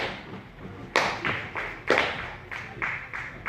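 An audience claps in short rhythmic bursts of hand claps, four or five distinct rounds in quick succession, close and fairly loud with no talking.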